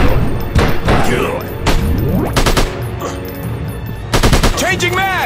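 Loud gunfire from a first-person shooter game, with repeated sharp shots and bursts of automatic fire spread across the clip, plus metallic clatter and a ringing echo toward the end.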